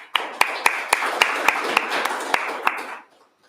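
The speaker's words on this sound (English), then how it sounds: "So, can we have a round of applause for that?" Clapping at a small tech meet-up, with sharp individual claps standing out over a steady patter of hands for about three seconds before it stops abruptly.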